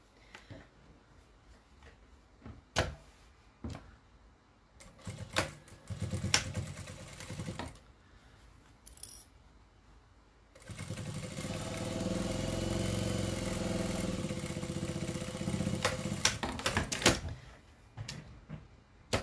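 A sewing machine runs in reverse, stitching backward through fabric while a cathedral windows quilted table runner is pieced. A steady motor whir lasts several seconds, framed by quieter handling clicks and bumps.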